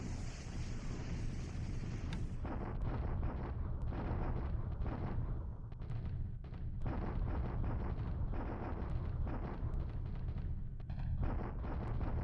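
Artillery bombardment in the War in the Pacific strategy game: a dense, continuous rumble of booming blasts and crackling impacts, loud and sustained throughout with no pauses.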